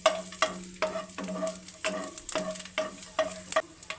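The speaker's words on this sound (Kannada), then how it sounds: "ಒಂದು 8-10 ಬೆಳ್ಳುಳ್ಳಿ ಎಸಳುಗಳನ್ನು ಇಟ್ಕೊಂಡಿದ್ದೀನಿ. ಅದನ್ನು ಸ್ವಲ್ಪ ಬಿಸಿ ಮಾಡ್ಕೋಬೇಕು." Garlic cloves heating in a spoonful of ghee in a pan, a steady close sizzle with soft rhythmic scraping strokes repeating about every half second.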